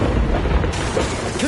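A Bombarda spell explosion in the video game Hogwarts Legacy, a dense, loud booming burst that fills the whole short moment with rumbling noise.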